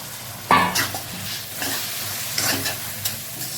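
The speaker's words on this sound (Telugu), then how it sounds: "ఇప్పుడు ఈ చింతపండు రసం వేసుకుందాం" Tamarind juice poured into a sizzling prawn curry in a pan gives a sharp burst of hiss, then a softer sizzle and bubbling with a few stirring scrapes, close and fairly loud.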